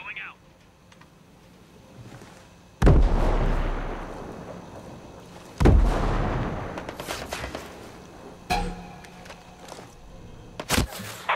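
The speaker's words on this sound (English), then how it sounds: "Frag grenade going out." In the Ghost Recon Breakpoint video game, two heavy blasts from a frag grenade boom out a few seconds apart, each with a rumbling tail, followed by sharp bursts of gunfire near the end.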